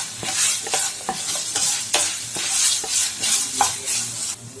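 Chilli prawns stir-fry in a pan over high flame, with a steady sizzle and a regular rhythm of utensil scrapes and stirring strokes close by, with no talking.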